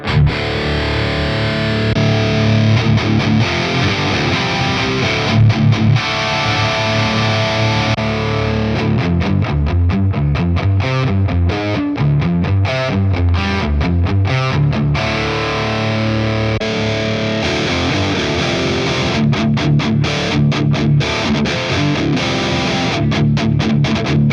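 Loud distorted electric guitar plays continuously while the tone shifts abruptly several times as different ToneX amp presets are switched in, some with added effects.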